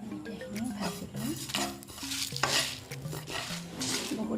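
Coriander seeds and spices sizzle softly in a pan, with a spoon stirring and repeatedly clinking and scraping against the metal pan close up.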